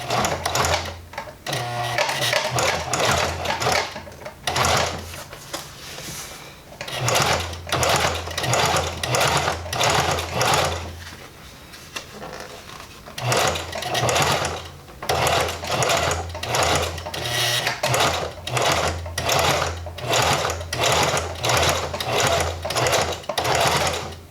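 A sewing machine stitches a Miata e-brake boot in repeated loud rattling bursts of rapid needle strokes, pausing briefly between runs, close and alone without talk.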